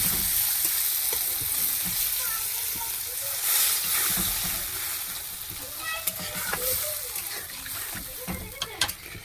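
Masala and tomato fry in a pan with steady, close sizzling and hissing, with occasional splashy bursts as water is added and the pan is stirred, no speech over it.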